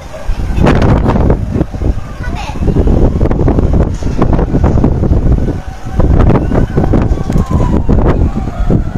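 Strong wind buffets the microphone in loud, continuous rumbling gusts at a fire in Parañaque City, Philippines, with some voices and background noise mixed in.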